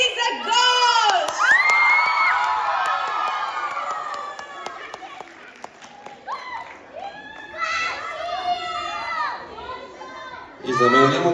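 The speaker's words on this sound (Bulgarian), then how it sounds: "Бурни аплодисменти за Гош!" A lively premiere crowd cheers and whoops for the returning character Gosh at the final-episode screening of the series Drama season 2, with high excited shouts, some childlike, rising and falling in loud bursts, plus chatter, for about eleven seconds.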